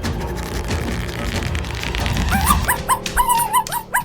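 A cartoon puppy barks in short yipping bursts near the end, over busy music and sound effects in a craft-themed cartoon scene.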